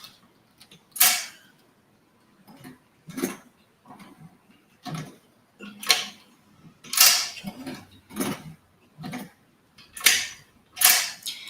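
A hand-cranked sewing machine stitches through thick webbing in a series of separate creaking, clacking mechanical bursts about a second apart, close by with quiet gaps between them.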